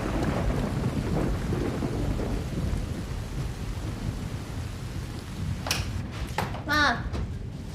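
Light rain falls steadily outdoors in a broad, even hiss, with a few sharp knocks and clatters near the end.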